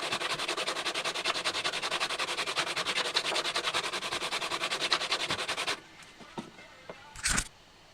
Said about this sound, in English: here we're going to sand all the different cracks, or all the spleens to get them flat where the cracks were